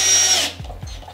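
A power drill whirs loudly for about half a second while driving a 30 mm screw into wood using a wolfcraft Undercover Jig and vise, then cuts off, leaving a couple of faint knocks.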